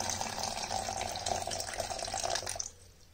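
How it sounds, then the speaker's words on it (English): Water pours steadily into a spider's water dish for about two and a half seconds, a soft trickling splash that stops abruptly before a brief quiet tail. "so fill her water dish up"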